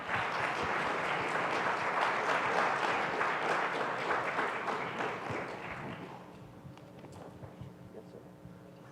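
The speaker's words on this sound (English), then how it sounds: "Please join me in giving our panelists a round of applause." Audience applause for panelists at an energy and climate week opening ceremony, a dense roar of clapping that fills the first six seconds and then thins to scattered claps.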